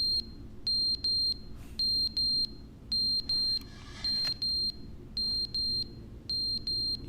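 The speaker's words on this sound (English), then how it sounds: "The fire alarm?" A fire alarm in the video game The Stanley Parable sounds as a steady run of high electronic beeps in quick pairs, repeating evenly and loudly with no voices.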